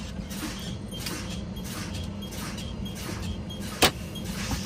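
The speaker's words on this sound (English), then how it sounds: "emergency brake valves, should pop out." A truck's emergency air brake valves pop out as the air pressure is fanned down toward 40 psi. One sharp, brief pneumatic pop stands out near the end over a steady idling engine hum in the cab.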